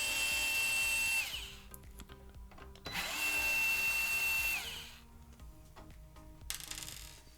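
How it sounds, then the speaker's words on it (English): An electric drill unscrews the screws of an Xbox Series S controller in three short whirring bursts, each a close, high motor whine with small clicks and tool handling between them. "I'm going to grab my drill here and unscrew these screws."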